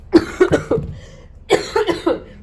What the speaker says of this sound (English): having a coughing attack